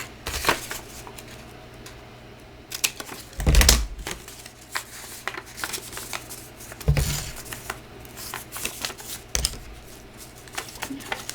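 Scissors cut kraft paper for a handmade bag, giving a series of crisp close snips and paper rustles, with a few louder bursts of crinkling handled paper between them.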